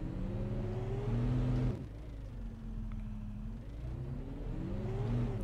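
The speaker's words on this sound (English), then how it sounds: "I love how the tractors drive." A tractor engine in the farming video game Cattle and Crops drones and revs as it drives, its pitch rising and dropping with gear changes in a loud, steady rumble, with no talk.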